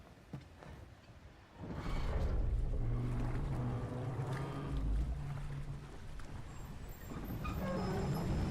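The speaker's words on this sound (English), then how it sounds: "Ah, nothing quite like a dwarven train ride." A dwarven train ride in God of War Ragnarok, a steady low rumbling rolling rhythm of a moving carriage that swells in after a quiet start and runs continuously, with faint clanks above it.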